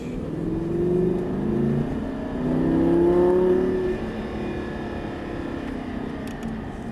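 A Lamborghini Gallardo accelerates on a race track, its engine note rising and swelling in steady pitch sweeps, loud and close throughout with no voices.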